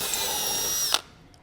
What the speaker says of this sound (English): you can go ahead and drill your second 2 holes